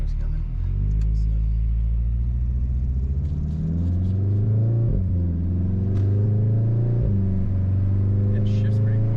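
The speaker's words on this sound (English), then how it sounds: "So you can just hear the turbo right there." An APR Stage 2 tuned Volkswagen Golf R accelerates hard, its engine note climbing through quick gear shifts with two sharp drops, over a deep road rumble and a faint turbo whine. Passengers talk faintly.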